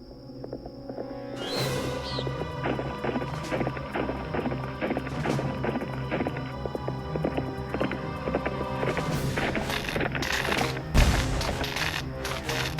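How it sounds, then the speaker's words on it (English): Galloping hooves of a phantom horse in a Nancy Drew ranch mystery game, a steady rapid clip-clop close and loud for most of the stretch, with music and a brief crash near the end. "You saw the phantom horse again?"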